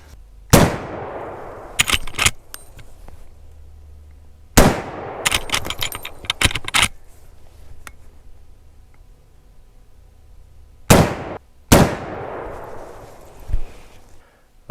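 Booming shots from a Henry All Weather .45-70 Government lever-action rifle fired at a target outdoors, loud single blasts spaced several seconds apart, each with a rolling echo, interleaved with lever clacks between shots.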